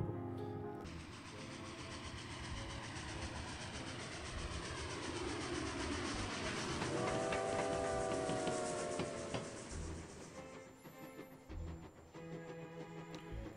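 Inside a train car in the Agatha Christie: And Then There Were None video game, wheels rattle and clack steadily along the rails with a rumbling hum, swelling midway before the sound cuts to quieter ambience.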